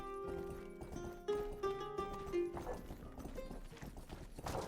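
Horse hooves clip-clopping in the video game Rustler, a quick trotting patter mixed under game music and effects, fairly close and moderately loud.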